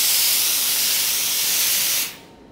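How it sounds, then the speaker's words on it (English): A Laurastar premium ironing system releases a powerful burst of steam, a loud, dense hiss lasting about two seconds before cutting off sharply into quiet. "Laurastar is a really premium ironing system and I've got a really powerful steam"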